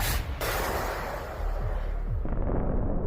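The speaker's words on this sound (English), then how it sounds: "A Ukrainian soldier from a nearby position fires a javelin" A Ukrainian soldier fires a Javelin missile at a Russian tank on a village outskirts, giving a loud burst and rumbling blast that fills most of the moment, with a heavy low roar trailing off.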